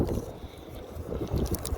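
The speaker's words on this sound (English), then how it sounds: "but it is very windy." Strong wind buffets the microphone at the old Greer Stadium site outdoors, a steady low rumble with gusty swells that grow louder toward the end, with no voices.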